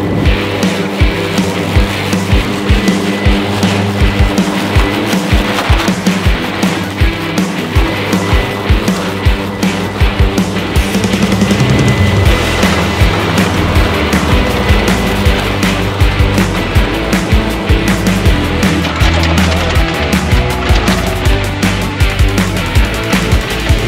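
EGO Z6 electric zero-turn mower driving at speed across a lawn, a continuous loud rolling rumble and whir with rattling bumps throughout, close and unbroken, no talk.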